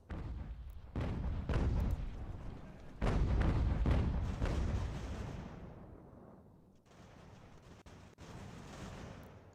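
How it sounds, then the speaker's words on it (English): Artillery fire in Ultimate General: American Revolution, a video game set in the Revolutionary War, booms in several heavy volleys that roll out and fade, followed by lighter scattered shots. "I need to do some counter battery fire"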